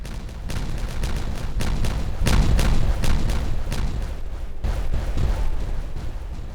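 Explosions from the beaver colony-building video game Timberborn, set on the Badwater Lakes map: a rapid string of booming blasts rumbling and overlapping for several seconds, loudest in the middle, with no talking.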